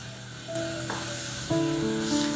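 Batter spooned onto a hot, brush-greased pan for chicken wrap bases, giving a steady close sizzle and hiss that swells in two steps as more batter meets the surface, with faint tonal kitchen hum behind.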